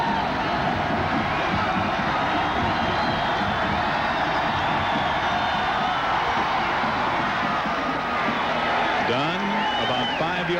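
A college football stadium crowd at a BYU versus Fresno State game roars in a steady, dense wash of cheering, with a commentator talking over it.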